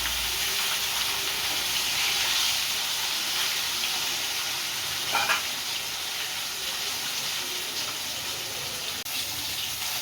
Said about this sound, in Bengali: সব মাছ কটা এরকম করে হালকা ভেজে নেবো